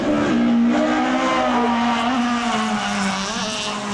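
Japanese import cars drifting in Ireland, with a loud, continuous engine roar rising and falling in pitch alongside sustained tire squeal, close and steady throughout with no talking.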